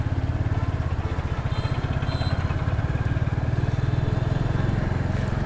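A Royal Enfield Classic 350 in gunmetal grey thumps along on a ride, its single-cylinder engine giving a steady, rapid low-pitched putter that stays close and continuous throughout, with no one talking.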